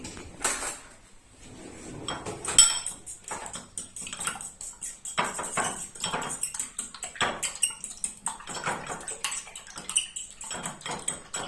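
A large fork beats eggs in a bowl, making quick, irregular metallic clinks and taps that continue throughout at a close but fairly soft level.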